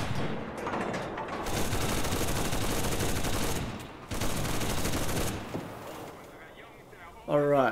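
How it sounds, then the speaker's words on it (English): Sustained automatic weapon fire in the World War II shooter Enlisted, played on an ultra hard mode, roars in long dense bursts with brief pauses, a loud close battlefield barrage that drops away near the end as a voice begins. "there I see a machine gun"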